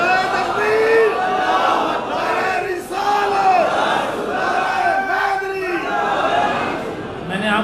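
A large crowd at a religious gathering chants slogans in unison. The loud, sustained voices rise and fall in repeated waves with shouted calls.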